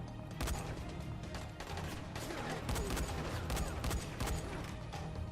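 A co-op firefight in the zombie game Dying Light with dense overlapping gunshots that crackle continuously and sound fairly faint and distant throughout.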